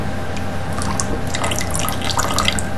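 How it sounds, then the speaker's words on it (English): Distilled water poured into a rust remover container while mixing brush electroplating chemicals, a steady close splashing trickle with scattered drips running the whole time, no talk. "so I'll just top that up with distilled water to 200"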